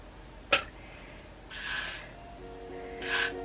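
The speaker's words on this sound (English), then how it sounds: "Last little spray at the edges" Hair spray hisses in two short bursts onto the edges of a full lace wig, close and fairly soft, after a sharp tap, with a faint tonal hum in between.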